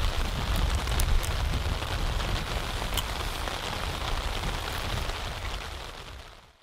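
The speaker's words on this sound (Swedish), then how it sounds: "Mer regn på gång." Rain falls steadily in an old-growth forest along the Pärlälven, a dense, even patter of drops on leaves and ground at moderate loudness that fades slightly toward the end, with no voices.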